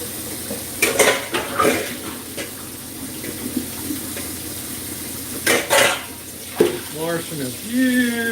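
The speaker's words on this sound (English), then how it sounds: "Washing a few dishes here." Dishes, a big pot and cutlery clatter and scrape in a kitchen sink with running water, sharp clinks coming in bursts, close up, with a few brief spoken words.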